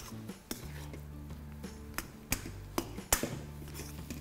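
A spoon knocks and scrapes in a pot as sugar is stirred into gulkand pongal, a series of sharp metallic clinks over a low steady hum in the background.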